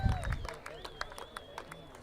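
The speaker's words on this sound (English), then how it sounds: "one final round of applause for Napa and Mackie Weiss" Audience applause at a polo awards ceremony, scattered claps and crowd murmur with some speech-like babble, fairly distant and light, fading over about two seconds.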